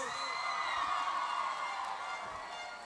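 A crowd at a 2022 school graduation ceremony cheers, whoops and applauds for the graduates, a dense, even roar of voices and clapping that fades slightly toward the end.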